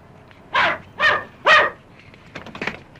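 Three loud dog barks in quick succession, evenly spaced, followed by a couple of softer, higher yips.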